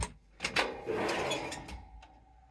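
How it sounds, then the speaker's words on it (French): A drawer in an Adria Capucine 660SP caravan slides open or shut with faint wooden clacks and a soft rolling scrape, quiet and close. "un tiroir"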